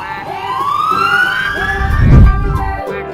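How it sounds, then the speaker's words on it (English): A toy police car's electronic siren wails upward in a rising, sustained tone, loud and close, with a brief rumble of handling near the end and no talk. "Police car."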